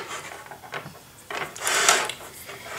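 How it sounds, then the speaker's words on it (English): An embroidery hoop being popped apart, giving a few short plastic clicks and rubs, then a louder scraping release and a brief rustle of fabric, all close and fairly quiet. "Then what you're going to do is pop the hoop out"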